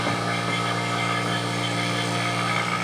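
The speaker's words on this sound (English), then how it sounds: "Motor's running, vacuum pump's running." A steady electric motor and vacuum pump drone without pause during a bench test of a rebuilt Midland Ross brake booster for a 1970 Charger with drum brakes. The tone is close, continuous and even, with a layered mechanical hum.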